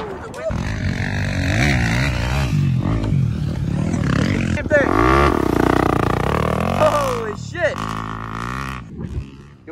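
A 250 dirt bike engine revs in rising and falling bursts close by, with several throttle sweeps over about ten seconds, mixed with outdoor voices and wind.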